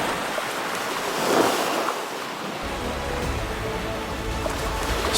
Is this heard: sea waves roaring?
yes